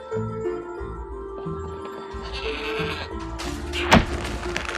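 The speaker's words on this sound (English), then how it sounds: "What an amazing goat!" A goat in the Trine 4 video game lets out a drawn-out bleat over soft game music, ending with a brief sharp thunk near the close.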